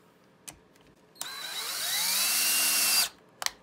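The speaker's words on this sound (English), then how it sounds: "So while it's there, I'm gonna run that screw in there." A power drill runs a screw into a mannequin head fixture, its motor whining up in pitch and holding steady for about two seconds before stopping, with sharp clicks of handling before and after.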